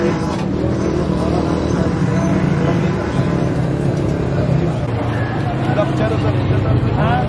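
Busy street traffic outside Old Anarkali Food Street in Lahore, a steady loud roar of engines and passing vehicles with constant background murmur, a voice talking over it throughout.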